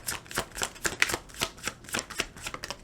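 Tarot cards shuffled by hand in a rapid run of crisp, papery riffles and flicks, close and fairly soft, with no voice over them.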